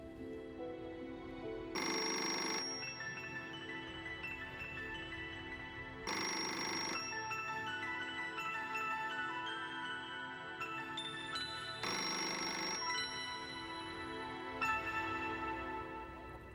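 A telephone rings unanswered at a house, its electronic ringtone sounding in three long bursts separated by pauses, clear and alone with no talk.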